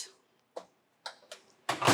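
A microwave door is handled in a home kitchen: a few light clicks and knocks, then a louder latching clunk at the end, close and alone in a quiet room.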